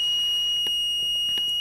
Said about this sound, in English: oh no, the alarm's gone off